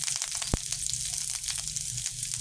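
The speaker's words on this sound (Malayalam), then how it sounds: "അപ്പോൾ കടുക് പൊട്ടിയിട്ടുണ്ട്" Mustard seeds crackle and pop in hot oil, rapid irregular spatters over a steady sizzle, with one sharp louder pop near the start.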